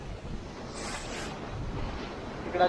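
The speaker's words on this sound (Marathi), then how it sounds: "कातळाला भेदून तयार झालेल्या घळीत उदानाच्या फेसाळलेल्या लाटा गरज देत होत्या" Sea waves surge into a rocky gully at Guhagar beach, making a continuous rushing roar of surf with wind buffeting the microphone.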